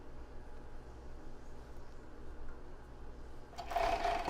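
A sewing machine stitches a plus-size bra, with a steady low mechanical hum that swells into a louder, brighter whirring run near the end.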